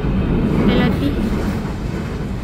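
An LRT light rail train rumbles past with a low, steady roar, and voices talk over the noise.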